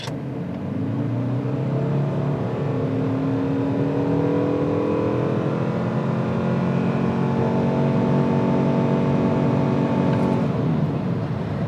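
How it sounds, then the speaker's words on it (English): A Ford Maverick Hybrid pickup's engine revs up and holds a steady, droning high pitch as it accelerates through its CVT, continuous and fairly loud for several seconds with no talking. "Revs out that engine as far as it'll go and keeps it at 100."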